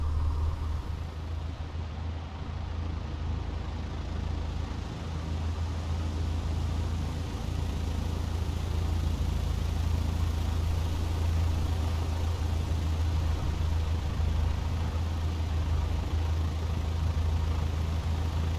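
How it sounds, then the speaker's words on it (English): Piper PA-38 Tomahawk piston engine in Microsoft Flight Simulator running at low taxi power, a steady droning hum with a strong low rumble, continuous and even throughout. "Apply power slowly to get the aircraft rolling and then start the short taxi to the runway."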